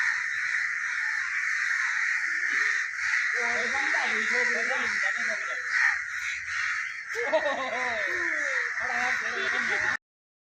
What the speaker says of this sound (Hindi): और कौवा भी धन्यवाद करते हुए वहां से उड़ जाता है